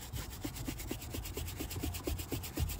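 A dirty shoe gets scrubbed with shoe cleaner from an AntDesign kit, a steady, close, rhythmic brushing with repeated strokes at a quick, even pace and no talk.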